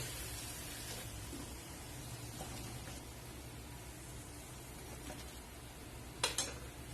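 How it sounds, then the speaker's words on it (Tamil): Mushroom pakoda deep-frying in oil gives a steady, faint crackling hiss with no pauses, broken by a couple of soft clinks from the pan near the end. "நல்லா மொறுன்னு நம்ம கிறிஸ்பியா பொரிச்சு எடுத்துக்க போறோம்"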